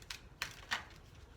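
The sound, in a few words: shuffling tarot cards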